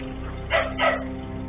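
A dog gives two loud, close barks in quick succession over a steady low background hum, with no talking.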